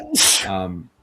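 A single sharp human sneeze, loud and close, with a quick breathy intake and a voiced burst that trails off.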